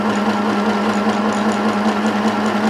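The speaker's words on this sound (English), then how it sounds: "I'm just going to wind the bobbin maybe a third of the way." A Janome Sew Mini sewing machine winds thread onto a bobbin with a continuous, loud motor whine and steady hum, unchanging throughout with no voices.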